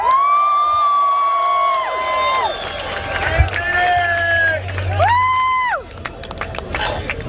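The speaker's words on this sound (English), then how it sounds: "So please, everybody, give him a round of applause." Crowd at a Trump rally in New York cheering and whooping, loud shouts and sustained vocal cheers rising and falling over several seconds, with a few voices and some clapping mixed into the roar.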